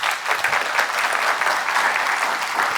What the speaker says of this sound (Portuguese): Uma salva de palmas aqui para Deus.